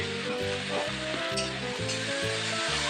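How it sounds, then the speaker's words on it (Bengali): Mung dal dry-roasting in a pan, a dense rustling hiss with regularly repeating scraping strokes as it is stirred round, close and steady throughout. "যতক্ষণ না গন্ধটা চলে যায় ততক্ষণ এইভাবে নাড়াচাড়া করতে হবে"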